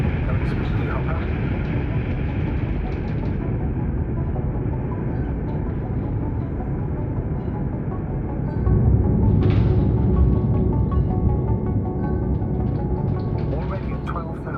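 An aircraft engine roars steadily in flight in the video game The Invincible, a broad dense rumble that swells louder partway through, while a voice talks over it.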